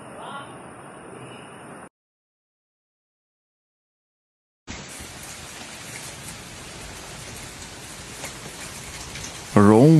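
Heavy rain pelting down during a violent hailstorm over Rome's cobbled streets, a dense steady roar that cuts out abruptly for a few seconds, then returns just as strong with a louder burst at the end.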